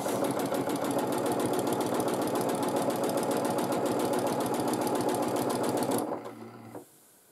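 Sewing machine free-motion quilting with pink thread on light pink fabric: a fast, steady mechanical needle rattle, close and loud, running continuously before stopping abruptly near the end, with no talking.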